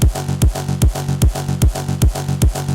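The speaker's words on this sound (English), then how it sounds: "So now when we play these together with the kick we have here, it sounds like this, very punchy." Punchy side-chained kick drum sample looping in an electronic track, seven deep, booming thumps at a steady fast pulse, each followed by a pumping swell of the surrounding music, loud and up front.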